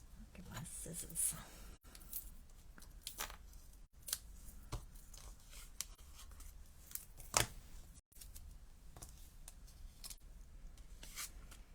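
Scissors cutting paper during handmade card-making with a Stampin' Up! pansy set, quiet close snips and paper rustles scattered through the passage, with faint talk now and then.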